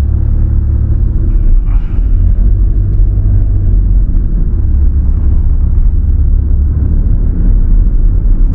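Steady traffic rumble on a busy road in Urino, Iizuka, with cars passing continuously at moderate distance, a constant loud wash of engine and tire noise with no talking.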